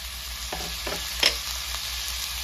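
Cauliflower stir-fries with onion-garlic masala in a pan, a steady hiss with three or four quick spatula scrapes and one brighter metallic clink, close and with no speech.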